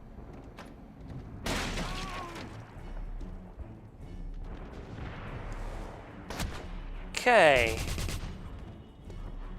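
Sniper rifle fire in the video game Wolfenstein, a few sharp separated shots with echoing tails, one louder close blast near the end, and a brief spoken word in between.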